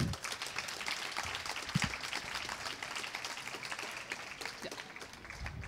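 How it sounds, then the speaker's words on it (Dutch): A lecture audience applauds the speakers at a university science talk, steady even clapping from a full room that carries on without pause from start to finish. "Alvast een hartelijk applaus voor onze sprekers."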